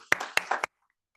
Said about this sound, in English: Let's give these fantastic individuals a round of applause.